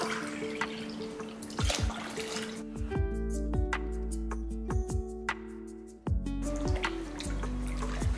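Water poured from a tumbler into dal while making sambar rice, a steady splashing stream with scattered drips and clinks, fairly close and moderately loud, no talk over it.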